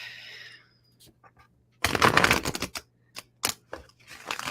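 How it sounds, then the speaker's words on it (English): Tarot cards being shuffled during a live reading, a faint riffle at first, then a dense burst of crisp card flutter followed by scattered taps and snaps, with a voice talking nearby. "Let me shuffle one good time here for you."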